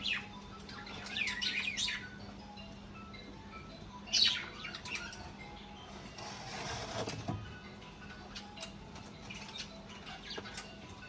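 Parrots let out harsh squawks and chirps in a couple of brief bursts, then fall quieter against a faint hum.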